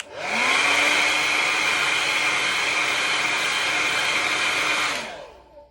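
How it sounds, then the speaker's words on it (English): A hair dryer roars steadily at close range for about five seconds, a loud constant blowing whine, then cuts off and spins down. "I literally just get a hairdryer and whack it"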